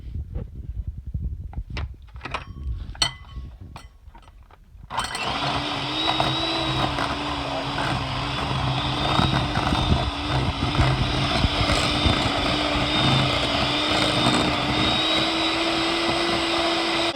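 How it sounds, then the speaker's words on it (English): Electric hand mixer beating a sweet Irish potato candy mixture, starting after a few seconds of quiet clinks and handling, then a steady loud motor whir with a constant hum that runs unbroken to the end. "we're going just to mix these together real quick until they're like almost like an icing mixed. So get my mixer out"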